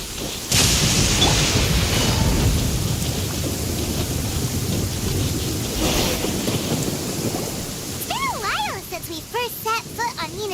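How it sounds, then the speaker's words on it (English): Thunder rolls and booms through a Genshin Impact storm, with steady heavy rain filling the background; faint game music or voices rise near the end. "Thunder and lightning can be quite frightening"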